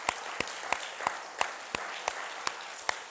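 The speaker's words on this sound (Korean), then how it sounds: "오늘 처음 방문하신 분도 다 일어나 주시면 환영의 박수 하겠습니다." A church congregation at a Sunday morning worship service claps in unison to welcome visitors. The claps are sharp, rhythmic and evenly spaced at about three per second, and they sound alone without talking.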